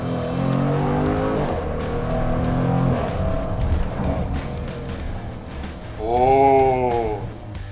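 A Jaguar F-Pace SVR engine revs hard through rising and falling pulls, with crackling exhaust pops scattered between the revs and a final loud rev near the end, close and prominent.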